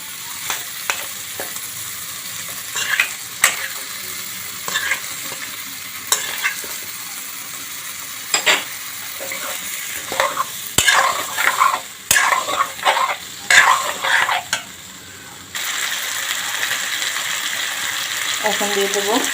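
Potato pieces fry in a pan with turmeric, salt and ghee while being stirred, giving a low sizzle with intermittent utensil scrapes and clinks, busier mid-way, then a steadier louder hiss near the end.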